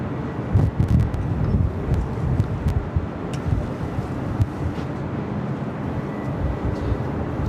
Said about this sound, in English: Have another Delta 767 heading to 24 right.